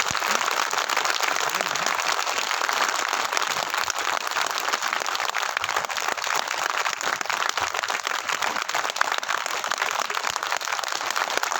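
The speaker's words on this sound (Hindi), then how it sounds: "जोरदार ताली बता के एहसास कराइए कि हम खुशी का पर्व मना रहे हैं" Steady, dense applause from a large audience at a Hindi-language birth centenary celebration, sustained and even for the whole stretch with no voices rising above it.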